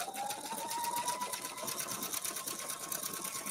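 A sewing machine stitches fabric for a zero-waste skirt, its fast steady needle chatter close and continuous, with a thin rising motor whine beneath and no voices.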